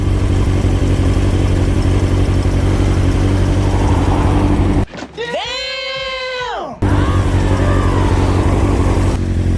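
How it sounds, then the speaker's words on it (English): An orange and black McLaren sports car passes close by. Its high, tonal engine note rises and falls for about two seconds over steady road and wind noise. "Ooh, we got a McLaren here. An orange and black McLaren. It's coming here."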